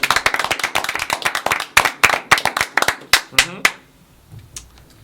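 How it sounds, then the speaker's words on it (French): A group of people applaud together in a brief burst of hand clapping at a French-speaking community gathering, dense claps that thin out and stop after about four seconds. "Ça, nous applaudissons, c'est important."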